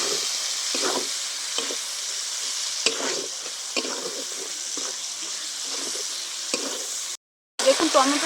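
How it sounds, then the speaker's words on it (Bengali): Chopped tomatoes fry with onions for a dhaba-style chicken curry, a steady sizzle under repeated rhythmic scrapes of a stirring spoon, close by, with a brief dropout near the end; no one speaks. "টমেটোটাও আমি খুব ভালো করে নেড়ে চেড়ে নেবো যাতে টমেটোটা গলে যায়"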